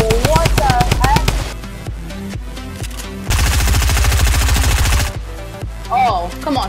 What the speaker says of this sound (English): Please don't shoot Justin now.